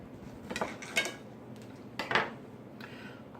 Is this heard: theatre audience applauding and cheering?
no